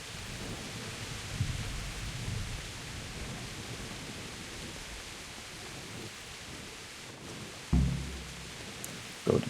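Steady hissing rain in the video game Kingdom Come: Deliverance fills the scene throughout, with a couple of low rumbling thuds near the end.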